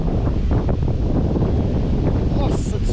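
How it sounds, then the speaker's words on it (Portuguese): Strong wind buffets the microphone steadily during a fishing trip, a dense continuous roar with someone speaking briefly over it. "Nossa, desculpa o vento, gente."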